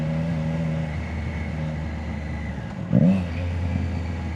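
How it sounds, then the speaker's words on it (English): Motorcycle engine humming steadily on the move, then a short sharp rev swells near the end and settles back into a lower drone, with no talk. "The bike sounds good and then before you know it, you're going"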